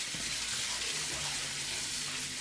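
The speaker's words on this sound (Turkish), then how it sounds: "Daha sonrasında güzelce birkaç sefer yıkıyoruz lavada." Tap water runs steadily into a kitchen sink as dried fruit (raisins, apricots and plums) is rinsed, a continuous bright splashing hiss with faint handling clunks beneath.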